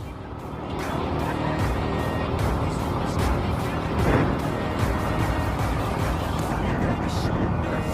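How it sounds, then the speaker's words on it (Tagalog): Heavy road traffic, including trucks, rolls past on a narrow road leading to a mining site, heard from a Suzuki GSX-S150 motorcycle as a continuous loud roar with engine and tyre noise. "Oh, traffic."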